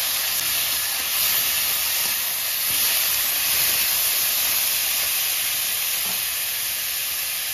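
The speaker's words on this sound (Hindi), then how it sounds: "प्याज हमारी फ्राई हो चुकी है, अब टमाटर डालते हैं।" Tomatoes tipped into a pan of fried onions while cooking aloo shimla mirch, giving a steady, loud, broadband sizzle and hiss that runs unbroken and alone throughout.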